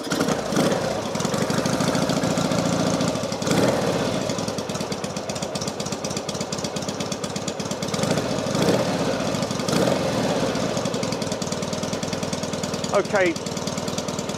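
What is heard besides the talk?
Norton Commando motorcycle engine running after ignition switched on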